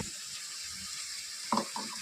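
Water pours into a spiced meat marinade with yogurt, a steady soft trickling stream close up, briefly louder near the end with a splash of stirring.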